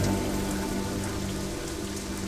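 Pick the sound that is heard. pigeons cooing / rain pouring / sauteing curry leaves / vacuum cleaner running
rain pouring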